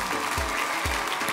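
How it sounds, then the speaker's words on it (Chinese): A television game-show studio audience claps to welcome contestants: a brief burst of dense, steady applause with a few low thumps underneath. "那么接下来我们掌声欢迎四组挑战选手"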